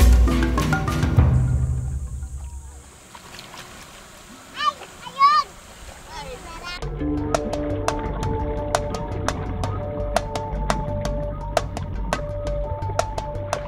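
A loud splash as a 66-year-old grandmother dives into a river to pan for gold. It quickly fades into quieter water sounds with faint tonal background sounds.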